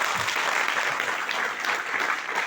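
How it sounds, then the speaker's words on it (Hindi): Sustained, dense applause from a large audience at a company seminar, a steady loud wash of many hands clapping at once without a break. "ताली बजाओ जोर से"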